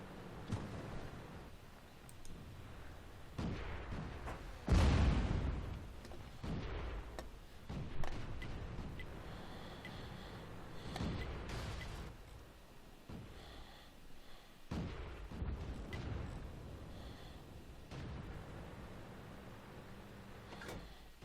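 Tank gunfire in World of Tanks: a heavy boom near the start followed by lighter blasts, clanks and mechanical rattles scattered through a rumbling battle mix.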